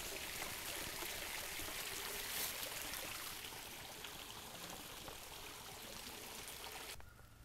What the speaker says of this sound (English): Down in there is the creek area